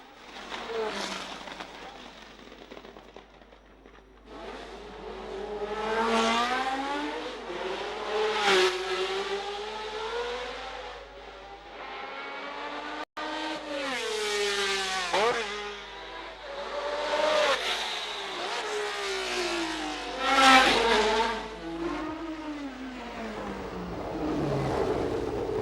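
1971-season Formula 1 race cars whine and rev past on a wet track, engine notes rising and falling in repeated passes, loud and fairly close, with a low rumble beneath.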